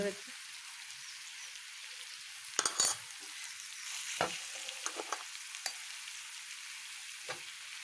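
Garlic and onion frying in a pan with dry spices, a steady soft sizzle broken by a few louder clatters of stirring around the middle and lighter scrapes later; no talking.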